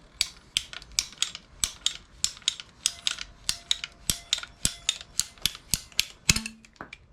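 Old hand cutters work through PVC pipe in a steady series of about twenty sharp ratcheting clicks and snaps, close and crisp, with a final squeak at the end.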